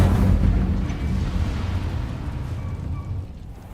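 An Incendio fire spell cast in Hogwarts Legacy bursts with a loud, deep whooshing blast at the start, then a rumbling roar that slowly fades out over a few seconds.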